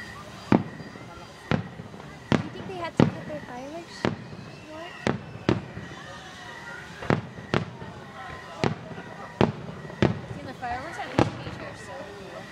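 Fireworks at a show in Simi Valley burst repeatedly at irregular intervals, sharp booms echoing at a distance while people chatter and call out throughout.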